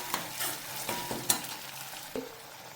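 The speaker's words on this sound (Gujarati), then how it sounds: "ધીમા તાપે આપણે શેકાવા દઈશું." Mashed roasted brinjal for Gujarati baingan bharta cooks in a pan over a low flame, giving a steady soft sizzle with several sharp scrape-and-stir clicks of a spatula against the metal.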